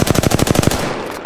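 An automatic weapon fires a rapid, loud burst of about ten evenly spaced shots in the Apex Legends video game, followed by a brief decaying echo.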